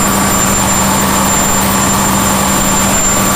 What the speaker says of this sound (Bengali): আর এটা হচ্ছে মেইন ইঞ্জিন